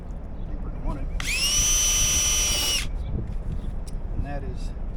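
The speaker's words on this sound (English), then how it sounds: "Spot drill this right here." A power drill spot-drills a hole in house siding during an outdoor water hydrant install. It gives one loud, steady, high whine lasting about a second and a half, with quieter handling noise before and after.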